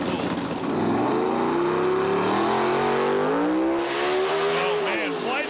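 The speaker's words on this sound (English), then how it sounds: "lights up the rear tires, blows up the motor, front end wobbling around" A drag racing car roars at full throttle with its rear tires spinning and its engine blowing, a loud, continuous, sliding engine howl that rises and wavers throughout, close and overpowering.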